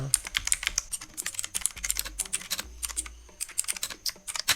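Quick, close clicking from a computer keyboard as code is typed, with irregular bursts of keystrokes and short pauses, no voices.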